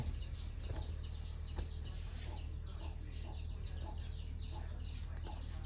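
Chickens cluck repeatedly around a rural home, short rhythmic calls from several birds over a steady low background hum, with no talk.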